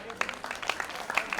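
Brief burst of audience applause at a live event with a film actress, rapid scattered claps close and fairly loud, with voices mixed in underneath.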